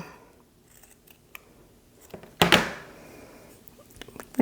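Scissors cutting cross stitch fabric: soft handling taps and rustles in a quiet room, then one loud, close snipping cut that fades quickly into faint movement.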